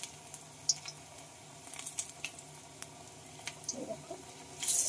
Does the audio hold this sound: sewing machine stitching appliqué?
no